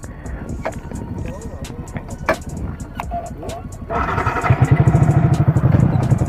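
Motorcycle with a loud aftermarket exhaust starts up and revs hard, the engine note rising and growing louder toward the end, with people talking over the noise.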